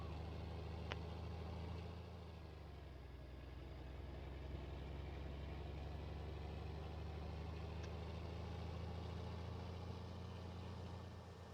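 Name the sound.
old farm tractor engine running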